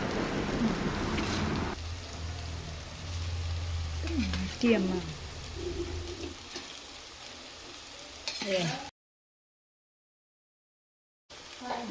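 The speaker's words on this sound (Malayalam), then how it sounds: "നമുക്കൊന്ന് നന്നായി മിക്സ് ചെയ്ത് കൊടുക്കാം കേട്ടോ" Cooked rice being mixed with spices in a sizzling frying pan for Kerala-style mango rice, a close scraping stir over a frying hiss that cuts to silence before resuming briefly.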